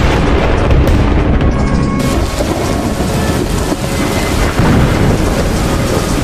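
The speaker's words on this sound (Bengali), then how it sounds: "আরে এই তো বৃষ্টি হচ্ছে" Heavy rain pours steadily throughout, with deep rolling thunder rumbling beneath it, loud and continuous with no voices.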